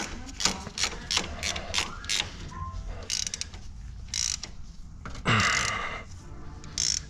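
A hand ratchet snugs steering stabilizer bolts on a budget vehicle build, giving quiet bursts of quick clicking with pauses and a brief louder scrape between them.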